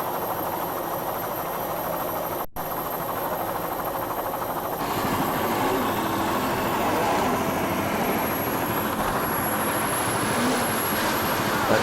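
Helicopter flying overhead while filming an offshore powerboat race featuring 31-foot Spirit sport boats with twin 500 hp engines, a steady loud broadband rotor and engine roar that swells slightly midway and continues throughout.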